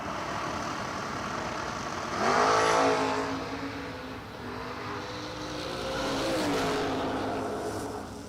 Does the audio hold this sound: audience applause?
no